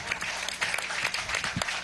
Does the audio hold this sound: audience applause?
yes